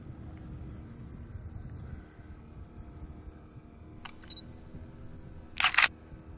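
A camera takes a selfie of an angler holding a big smallmouth bass aboard a fishing boat on Lake Simcoe, giving a short, sharp shutter click over the low, steady drone of the boat.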